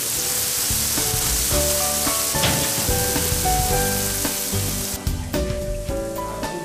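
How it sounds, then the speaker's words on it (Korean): Meat sizzles loudly on a hot cast-iron plate at a Korean factory, a dense, steady crackle and hiss with scattered pops and clinks running throughout, close and with no voices. "주물에 고기를 올리자마자 연기가 피어오르기 시작하더니 금방 요란한 소리와 함께 먹음직스럽게 익어가기 시작한다."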